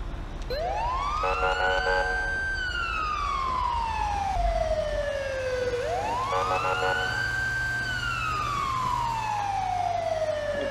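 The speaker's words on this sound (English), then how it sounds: "Okay, so we are using the Delta Master Touch Siren" A Cal Fire engine's Delta Master Touch siren from GTA 5 sweeps up and slowly winds down in long wails, twice over about eleven seconds, loud and steady above a low engine rumble.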